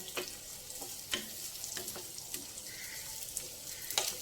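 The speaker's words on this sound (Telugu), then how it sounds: "ఇవి చక్కగా వేగుతూ ఉండాలి." Carrot, onion and cashews fry in a pan for vegetable upma, giving a steady soft sizzle with occasional crackles and stirring clicks, close and alone without talk.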